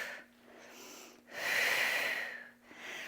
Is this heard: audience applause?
no